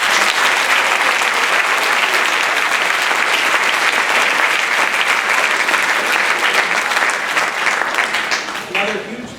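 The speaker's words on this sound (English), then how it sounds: "So a big round of applause for them." A big crowd claps loudly and steadily at a middle school spring concert, a dense sustained wash of applause that tapers slightly at the very end.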